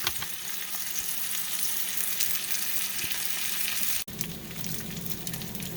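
Pork chops pan-fry with a loud, continuous crackling sizzle close by, briefly cut near the end before resuming just as steadily; no talking.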